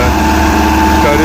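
A tractor engine runs nearby at a tractor fair, a loud, steady idling drone with a constant low rumble over the whole short stretch.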